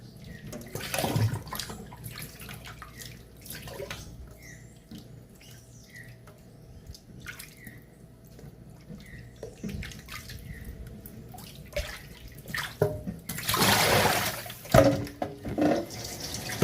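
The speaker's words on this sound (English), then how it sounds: "I'll empty it in and give it another rinse." Raw pork pieces rinsed in a bowl of water, with tap water trickling and splashing, soft handling noises, and a louder burst of sloshing and pouring near the end; no voices.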